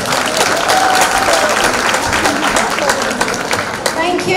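Dense, loud, steady applause from an audience after a child's Bollywood dance performance at a mela, a continuous wash of many hands clapping close by with no talking.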